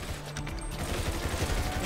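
Rapid bursts of video game gunfire in a dense, crackling stream, continuous and fairly loud with no talking, from Grand Theft Auto V Online.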